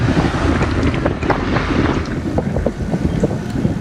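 Strong wind buffets the microphone in a constant low roar, gusting unevenly throughout with no voices.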